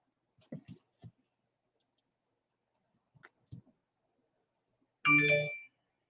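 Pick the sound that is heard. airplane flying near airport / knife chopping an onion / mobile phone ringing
mobile phone ringing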